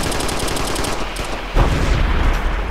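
Rapid bursts of automatic gunfire in the video game Operation Flashpoint: Red River, with steady rattling shots followed by a heavier, louder volley partway through.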